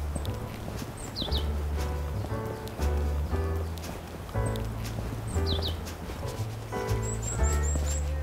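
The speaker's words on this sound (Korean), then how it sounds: "청아한 새소리 들리시나요?" Birds sing at Namhansanseong, a Joseon-era mountain fortress among pines, giving a few short high chirps and a quick rising trill over a steady low tonal backdrop.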